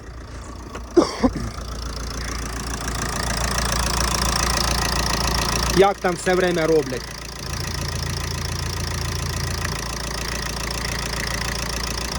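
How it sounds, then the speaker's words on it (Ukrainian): A Ford Transit Connect 1.8 TDCi diesel van engine idles with a steady low rumble and knock while someone talks over it, with a couple of short clunks. "послухаємо, як працює мотор"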